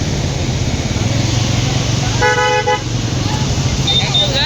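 Heavy Saturday road traffic on the way to Srisailam in the dark as rain begins: a constant close engine rumble, one loud car horn honk midway and a fainter horn near the end, with voices talking over it.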